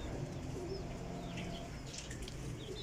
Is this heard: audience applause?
no